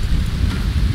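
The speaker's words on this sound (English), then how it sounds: "Alright, it's raining." Steady rain pours down in the jungle survival game Green Hell, with dense low rumbling that suggests thunder and no talk, holding constant for the whole moment.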